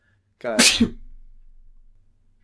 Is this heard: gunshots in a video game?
no